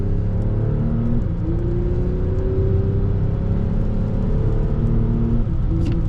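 An Audi A6 V6 TDI with electric assistance accelerates on kickdown from about 60 at low revs, a steady engine drone and tyre roar heard from inside with a rising whine as it pulls.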